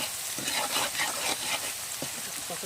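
A spice paste, salted and turning brown, fries in oil for a katla fish and eggplant dish, giving a dense close sizzle. Faint stirring knocks break through the hiss now and then.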